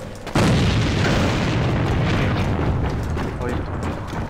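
A grenade blast in the online shooter AVA lands as a sudden loud boom, followed by a long rumbling roar that fills the rest of the moment, with faint game noise underneath.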